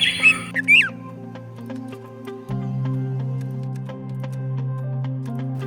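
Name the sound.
red-whiskered bulbul singing at dawn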